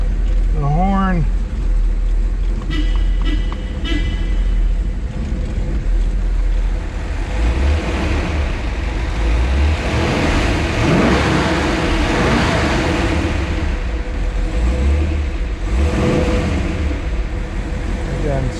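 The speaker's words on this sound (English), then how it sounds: "Rev it up a little bit here." A 1969 Plymouth Road Runner HEMI with an air grabber hood is revved, a loud, deep rumbling idle swelling into several throttle blips, close up throughout. Someone speaks briefly under the engine near the start.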